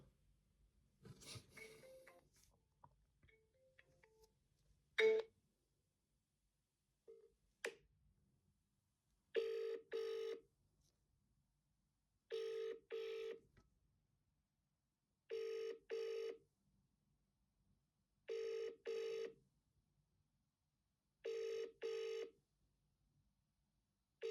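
Ringback tone on an outgoing UK mobile call, a regular double-burst ring repeating about every three seconds with silence between, after a few quiet clicks and taps.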